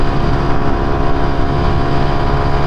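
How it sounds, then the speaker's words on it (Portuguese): A Honda Pop 110 motorcycle cruises along a highway near top speed, a steady loud engine drone mixed with wind rush, close and continuous. "É uma motinha que anda muito bem aqui na rodovia."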